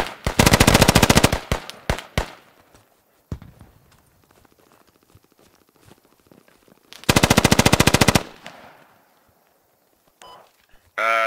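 Loud, close bursts of automatic suppressive gunfire in the Squad military shooter game, two long rapid strings of shots with a few single shots between them and quieter movement sounds in the gaps.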